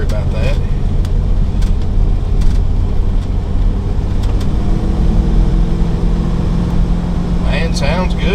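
2001 Leisure Travel Freedom 2A widebody Class B camper van driving on the road, a loud, steady engine rumble with road noise throughout and a person speaking over it.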